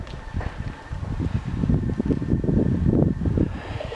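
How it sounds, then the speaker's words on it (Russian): Strong evening wind gusting against the microphone, a rough low rumble that swells and fades over a few seconds, no voices. "Вечер, тоже ветер сильный."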